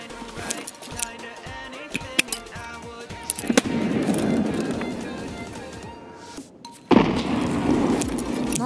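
A grenade blast in the tactical shooter Escape from Tarkov, a sudden loud boom near the seven-second mark that cuts through ongoing game ambience and scattered gunfire.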